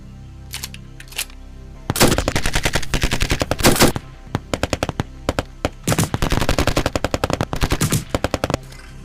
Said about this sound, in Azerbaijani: Ara, deyirəm bəlkə bir iki güllə ataq.